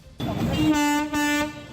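A train horn sounds at a railway crossing jammed with traffic, two long, loud blasts with a short break between them, over crowd noise.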